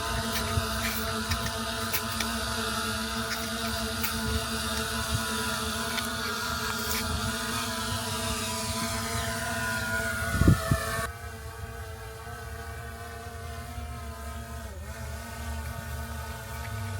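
A drone's motors whine steadily through takeoff, with many layered tones and a brief louder burst before the sound drops to a quieter, thinner hum.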